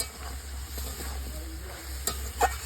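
Sesame-poppy seed paste stir-fried with pumpkin greens in a pan, producing a low continuous sizzle with soft stirring scrapes and a couple of sharper utensil taps toward the end.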